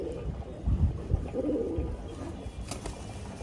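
A male pigeon on a rooftop coos in low, throaty, rolling phrases at close range, the calls rising and falling over a few seconds without any talking.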